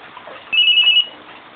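A cellphone ringtone plays a steady high electronic tone for about half a second over a faint background hiss, fairly close and clear.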